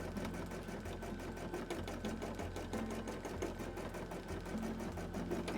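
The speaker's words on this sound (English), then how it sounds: "sew up the back a little bit." A sewing machine stitching the back seam of a cosplay costume, running continuously with a fast, even mechanical hum and clatter, close by and alone.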